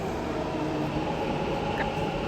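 A metro train rolls into a station platform during a field trip, a steady broadband rumble and hiss holding constant throughout with no distinct peaks, close and moderately loud, no voices.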